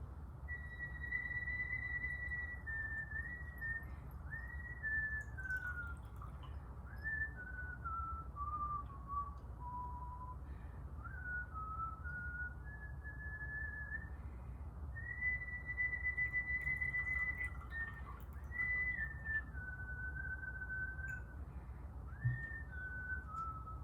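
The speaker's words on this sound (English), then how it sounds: "So I like to whistle or to hum to my medicine." Someone whistles a slow, wavering tune, one sustained note gliding into the next, over a low steady background hum.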